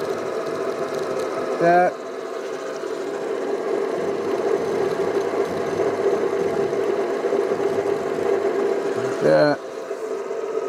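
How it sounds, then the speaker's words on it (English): A workshop machine spindle hums at a steady mid-pitched drone for the whole stretch, close and continuous, with two brief louder bursts where someone speaks over the running motor. "I'm going to start the spindle to make it easier to visualize."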